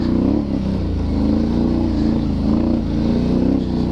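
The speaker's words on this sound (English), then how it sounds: "here we are on the 2022 Can-Am Renegade 1000" A 2022 Can-Am Renegade 1000R XXC ATV accelerates in sport mode, its engine loud and close with a throaty, rising rev that wavers as the throttle is worked and holds strong throughout.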